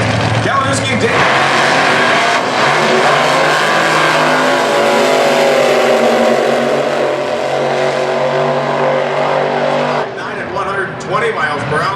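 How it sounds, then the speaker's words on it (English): A 1933 Willys AA gasser drag car rumbles loudly near the burnout area at a drag strip, a sustained heavy engine roar with a crowd-like wash, easing off briefly near the end. "33 Willys coming into the burnout area"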